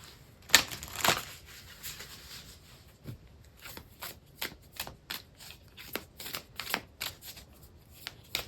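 A Work Your Light oracle card deck is shuffled close by, a run of quick papery riffles and soft snaps repeating through the stretch, quiet and with no talking.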